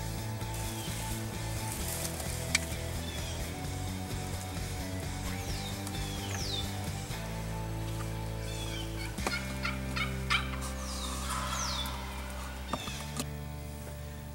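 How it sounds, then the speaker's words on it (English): A wild turkey gobbler calls during a Pennsylvania spring turkey hunt, with throaty gobbling and rattling calls over a dense, steady outdoor background and occasional sharp clucks. "the gobbler came strutting in"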